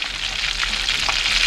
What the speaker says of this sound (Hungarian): Valami forró olajba került.